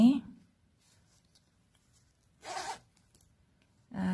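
A short zipper on a crocheted bag gets pulled in two quick zips separated by a pause, a close, crisp rasp each time, with a brief bit of speech at the start.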